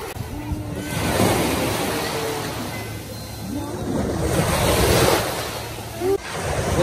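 Ocean surf rolls onto a Batangas beach in steady, loud washes, with wind buffeting the microphone and a child's faint vocal sounds now and then.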